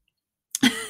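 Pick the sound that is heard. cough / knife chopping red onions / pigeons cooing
cough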